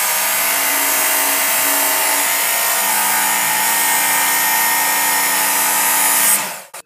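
A belt grinder grinds the steel of a Ghanaian sword blade, a steady, loud, bright abrasive hiss with a constant motor hum underneath, running continuously before cutting off abruptly at the end.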